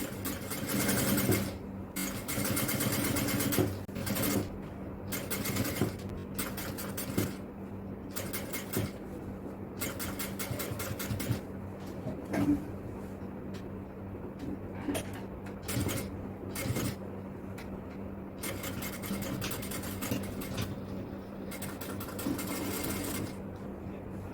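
A sewing machine stitches a jalabiya in rapid bursts, running in short repeated runs with brief pauses between them, steady and close throughout.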